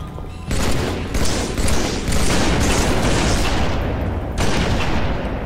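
Dense, loud bursts of gunfire and booms in a Halo 3 team doubles multiplayer match, including sniper rifle shots, crackling continuously with sharp onsets and short gaps.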